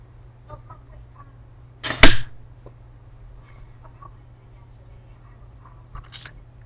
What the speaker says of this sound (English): I'm gonna give you a quick tutorial of how it shoots.